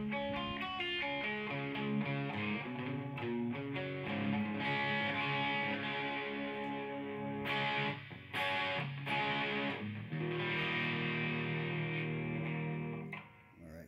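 A bass guitar played through a Fender Pugilist distortion pedal with its blend switch engaged and bass boost off, giving loud, continuous, gritty notes and chords that run almost unbroken for the whole stretch with no talking.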